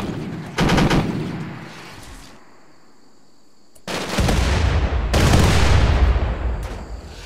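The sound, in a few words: turrets firing at raiders in the video game RimWorld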